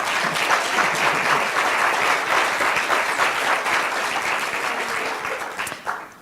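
Audience applauding at an academic memorial lecture, a dense, steady clapping from a full room that stays loud throughout and tapers off at the very end.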